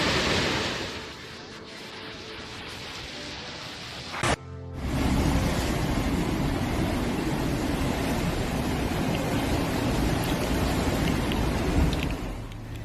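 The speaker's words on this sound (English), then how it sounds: "More torrential rain, another scene of flooding." Heavy, steady rain pouring down in a dense roar that continues without break, with a brief shift in the noise partway through.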